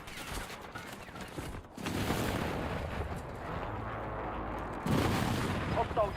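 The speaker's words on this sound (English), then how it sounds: "Enemy airstrike in the area." Airstrike explosions in Battlefield 6: heavy booming blasts and rumbling barrages, one surge near the start and another louder burst toward the end, with gunfire crackle between them.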